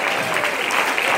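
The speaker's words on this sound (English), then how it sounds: "come on, put your hands together" Dense, steady applause from an audience at a live gospel service in Ft Myers, a loud, continuous wash of many hands clapping with no gaps.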